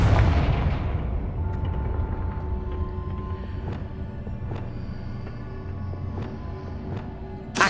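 Confringo explosive spell blasts in the Hogwarts Legacy video game: a dense rumbling bed with repeated sharp booming impacts and crackling bursts spread across the scene, loud and close, with game effects ringing on top.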